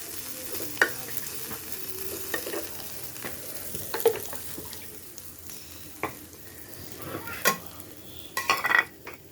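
Pointed gourd (potol bhaji) frying in a pan, a low steady sizzle with scattered clacks and scrapes of stirring, growing busier toward the end.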